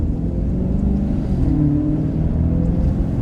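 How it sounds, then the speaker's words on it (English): Deep, booming engine rumble from a 2016 Maserati GranTurismo Sport, a steady low growl that swells slightly, heavy and close, echoing inside a tunnel. "And the exhaust note off the tunnel"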